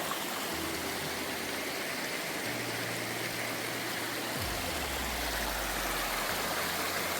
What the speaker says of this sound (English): this is War Branch Cascades, flowing right down into the prong.